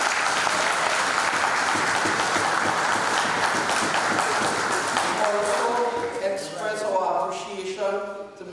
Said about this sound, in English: Let's give our CEO a round of applause.